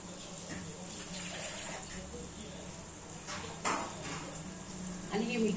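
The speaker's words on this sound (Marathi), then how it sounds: "जेवढं पाणी पाहिजे तेवढं पाणी टाकून द्यायचे" Two or three glasses of water are poured into a cooking pot for a mung vada curry, a soft splashing stream with a few clinks of the vessel while someone speaks over it.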